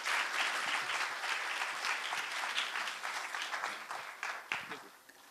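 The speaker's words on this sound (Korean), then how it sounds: "큰 박수로 이현숙 교수님을 맞이해 주시기 바랍니다." Audience applause welcoming Professor Lee Hyun-sook, a cancer cell biology specialist, to the stage at a science and technology symposium lecture, a steady dense clapping that fills the room and trails off slightly toward the end.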